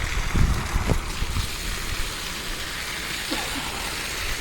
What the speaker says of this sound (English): Gonna add water now